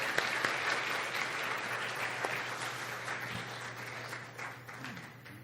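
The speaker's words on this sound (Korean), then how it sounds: "우리 이 가정 그리고 우주를 함께 박수로 축복해 주시면 고맙겠습니다." A church congregation at a Korean Sunday service in Manila applauds together, a steady dense wash of clapping that holds for several seconds and slowly thins toward the end.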